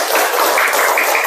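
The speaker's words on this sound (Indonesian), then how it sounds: "tepuk tangan untuk kita semua" A classroom of students claps hands together in a loud, dense burst of applause, steady and continuous over about a second and a half.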